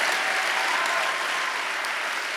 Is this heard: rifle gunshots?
no